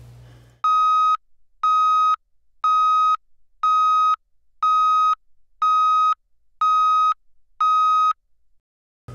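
A conventional tonal vehicle backup alarm: eight evenly spaced electronic beeps, loud and piercing, each a steady tone of about half a second with regular gaps between.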